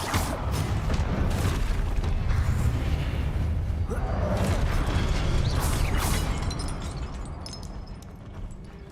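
Fiery Confringo spell blasts in Hogwarts Legacy combat in the Forbidden Forest, with booming hits and mechanical creaks amid steady battle noise that thins out toward the end.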